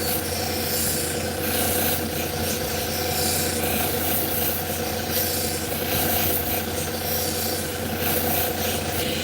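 A piece of fire obsidian is being sanded to remove a flaw, producing a loud, continuous abrasive rubbing over a steady machine hum with no pauses.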